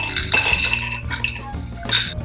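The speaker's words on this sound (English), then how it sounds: "Add ice into your glass." Several hard clinks and rattles of ice cubes dropping into a cocktail glass, close and bright, in quick irregular bursts.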